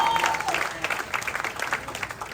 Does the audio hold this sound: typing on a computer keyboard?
no